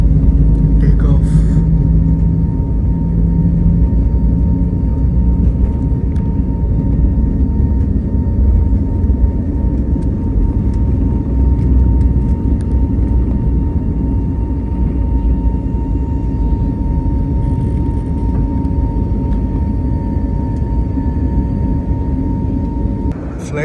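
A passenger jet on the Delhi to Leh route taking off, heard from inside the cabin as a loud, steady low engine roar and rumble that holds for over twenty seconds, with a faint tonal whine above it.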